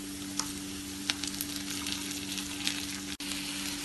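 Onion, ginger, garlic and chopped tomato sizzle steadily in a pan for a curry, with a few soft scrapes of stirring over a constant frying hiss and a low steady hum underneath.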